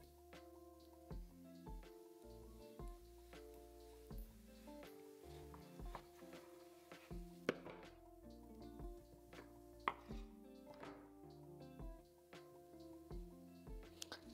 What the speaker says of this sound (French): je vais couper mon rôti en deux